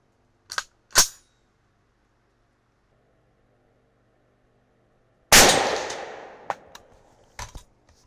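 An SKS rifle fires 7.62x39 handloaded rounds outdoors. Two small metallic clicks come first, then a single loud, close shot with a long decaying echo, followed by a few sharp clinks.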